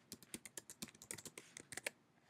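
A computer keyboard is typed on to enter a username and password: quick, irregular clicks in short bursts, close and quiet, with no talking.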